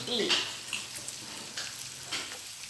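Steady broadband sizzling of pork and seafood frying on a hot Thai tabletop grill, close and continuous, with faint clinks and low background chatter.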